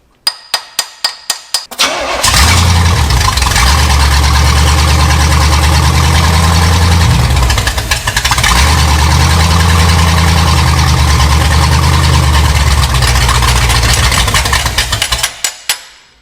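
An abandoned Pontiac engine fitted with a Quadrajet carburetor cranks loudly and close, starting with a few sharp separate turns, then grinding on steadily for about thirteen seconds with a short break midway before it stops.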